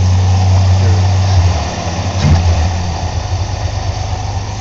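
A 1984 Chevrolet S-10 extended cab with a rebuilt 2.8L V6, Edelbrock intake and four-barrel Holley 390 cfm carburetor idles cold, a loud steady low rumble close by with no talk.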